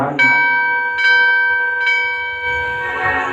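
A temple bell rings during a Hindu Bhagwat katha, three or four bright metallic strikes each leaving a long sustained ringing tone, close and loud, with no talk over them.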